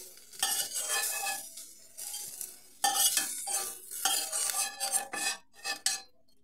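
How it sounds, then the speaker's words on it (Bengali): Thin-sliced eggplant strips tossed in a pan with leftover oil, busy clattering and scraping of a utensil against metal in irregular bursts, close up with a light sizzle underneath. "সরু সরু করে কেটে রাখা বেগুন দিয়ে দিলাম। আলাদা কোনো তেল দিলাম না।"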